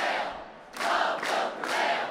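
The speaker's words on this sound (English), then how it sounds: "Emotional crowds lined the corridors of the Capitol, chanting, "We've just begun to fight."" Protesters chant in the corridors of the Minnesota State Capitol during the marriage amendment vote, the crowd's voices rising in three loud, echoing surges over a constant indoor murmur.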